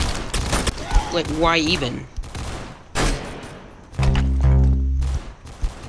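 Rapid gunfire from normal guns in the Roblox game Arsenal crackles in bursts, with a sustained rattling volley near the end, under a player talking.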